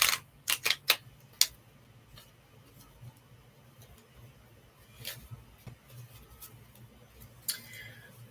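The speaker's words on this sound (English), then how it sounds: "let me show you how it shuffles." A few quick crisp riffles of a tarot card deck near the start, then scattered soft flicks and taps in a quiet room.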